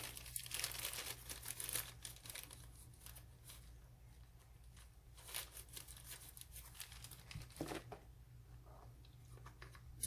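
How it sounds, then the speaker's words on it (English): Sheet of paper crinkles and rustles as it is laid down and smoothed over a nightstand, with soft, close, intermittent crackling throughout at low volume. "I put this paper down here"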